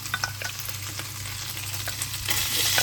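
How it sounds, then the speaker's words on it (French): Garlic sizzles in a hot pan while pasta is prepared, a steady close frying hiss with a few light clicks early on and a brighter, louder surge of sizzling near the end. "je vais y mettre déjà mon ail que je vais refaire venir d'un côté"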